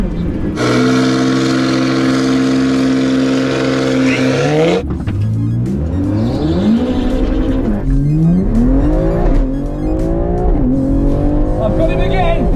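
A Ferrari 488 Pista is floored in sport mode on a racing circuit, its engine note climbing loud and close before sharp upshifts drop the pitch and the revs rise again in repeated pulls.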